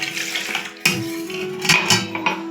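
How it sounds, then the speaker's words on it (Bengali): Boiled milk poured into a metal pot for a homemade cake. Loud metallic clatters and clinks of the vessels ring out over a soft pouring wash, with sharp knocks at intervals and no talking. "এইবার এই দুধটাকে আমি এই পাত্রে আবার ঢেলে নিচ্ছি"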